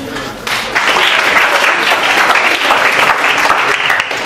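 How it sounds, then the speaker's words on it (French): An audience claps to welcome a speaker to the stage, a loud, dense burst of applause that swells quickly and holds steady from a crowded room. "merci d'applaudir"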